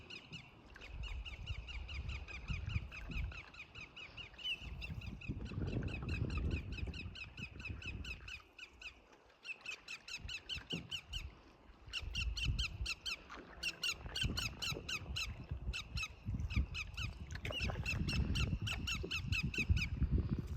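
Several birds resembling killdeer call repeatedly near a nest at a lakeside canoe campsite, with rapid, sharp squeaky piping in continuous bursts over low wind and rumbling background noise, no talking.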